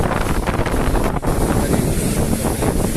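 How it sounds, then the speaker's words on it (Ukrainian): Steady, loud wind buffeting the microphone with a broad wash of large Mediterranean surf beneath it on the Alexandria seafront, continuous throughout with no voices. "Вітер тут волни досить великі."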